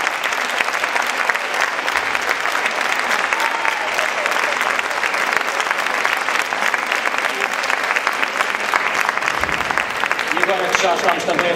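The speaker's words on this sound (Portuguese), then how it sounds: "Acho que eles merecem mais uma salva de palmas." Sustained applause from an audience at a school event in Trafaria, dense, even clapping that carries on loudly throughout with some crowd noise mixed in.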